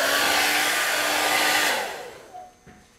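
A hair dryer blows steadily at close range to dry a stretch-and-stipple latex layer in a witch makeup application, a loud whooshing roar that cuts off near the end and leaves a brief faint clatter.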